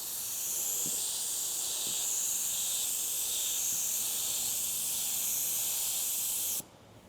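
Spray gun applying a coat of paint to a 1935 Packard, a continuous airy hiss held steadily for several seconds before it cuts off abruptly. Faint soft knocks sit underneath.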